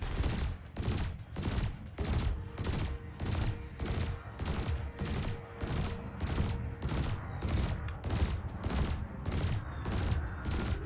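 Spaceship weapons fire in the space combat game Elite Dangerous, producing a rapid regular stream of loud bursts, about two per second, sustained throughout over a faint electronic hum.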